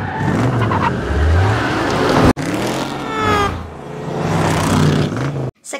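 Film car chase with a car revving hard and tires squealing and skidding, loud and close, with engine surges rising and falling, a brief cut partway through, and a sudden drop near the end.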